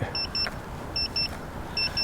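Three pairs of high electronic beeps repeat at an even pace over a steady mechanical hum as a V-COPTR Falcon Mini camera drone signals and lifts off.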